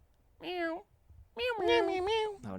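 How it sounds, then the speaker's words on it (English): A cat meows twice, a short call then a longer drawn-out one, close and fairly loud over quiet background noise. "Oh, no, that's a cat."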